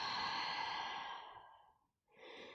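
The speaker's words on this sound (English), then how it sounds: "Deep breath out." A long, deep exhale during a yoga session, a soft breathy rush fading out over about two seconds, followed by the start of another breath, close and without talk.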